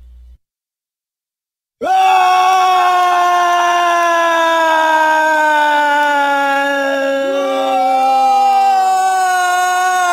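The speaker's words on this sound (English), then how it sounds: "end your video with that screaming sound" Drawn-out screaming howl at the close of an Overgrowth game clip, bursting in after near silence, loud and sustained with a wavering, strained pitch lasting many seconds.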